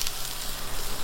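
Beef kala bhuna sizzling and frying on a clay wood-fired stove, a dense, loud, continuous hiss heard up close throughout.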